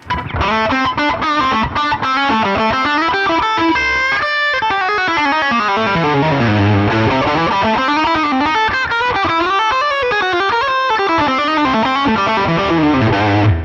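A distorted electric guitar runs fast, fluid pentatonic lines up and down, sidestepping into outside notes in a rapid continuous lick, loud and unaccompanied.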